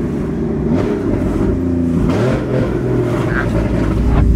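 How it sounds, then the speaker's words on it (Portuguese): A car's engine revs and pulls away loudly up close, its pitch climbing in several rising sweeps over a heavy low rumble. The roar stays loud throughout, with no talking over it. "Você acelera, ele vai."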